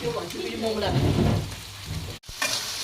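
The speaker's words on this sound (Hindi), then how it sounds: "तो उसके लिए गरम तेल में पहले डाला है प्याज और अदरक।" Onion and ginger sizzle in hot oil with tomato going in, a steady close crackle of frying with stirring scrapes and a brief break near the end.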